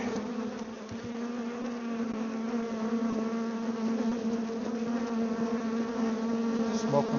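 Honey bees buzz steadily right around the microphone, a dense, close, continuous hum that stays at an even level throughout with no talking.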